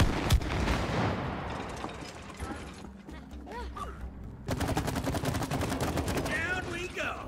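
Rapid gunfire in the co-op video game It Takes Two, bursts of shots crackling through the first half and again strongly toward the end, mixed with game effects and a voice talking underneath.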